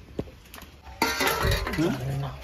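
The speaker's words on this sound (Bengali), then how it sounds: "মাছটা কেটে নিই।" A knife cuts a rohu fish in a village-style kitchen, with sharp metallic clinks and scraping against a pan or plate, close up, while a person talks over it.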